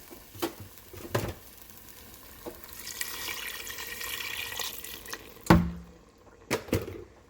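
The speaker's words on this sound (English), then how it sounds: "I'm gonna mix it, and I'm gonna add some water now because this is gonna start sticking at the bottom" Veg haleem being mixed in an Instant Pot after water is added, with soft liquid sloshing and scraping through the middle, broken by several sharp knocks of the spoon against the pot.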